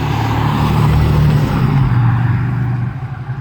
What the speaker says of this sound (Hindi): स्टॉक एग्जॉस्ट उन्होंने इस गाड़ी में इस किस्म की दी कि जी उसकी बड़ी एक मज़ेदार आवाज़ निकलती थी।